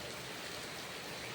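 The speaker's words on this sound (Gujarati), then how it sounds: "વરસાદ ફૂલ ચાલુ થઈ ગયો" Heavy rain pours in a dense, steady hiss with no breaks, loud and enveloping throughout the short stretch.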